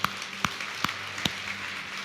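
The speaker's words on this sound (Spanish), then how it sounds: "vamos a aplaudir al Señor" Applause for the Lord during a Spanish-language church service: a few sparse, separate handclaps ring out against a quiet room hum, with no voices over them.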